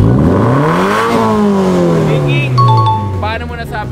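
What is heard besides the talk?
car engine revving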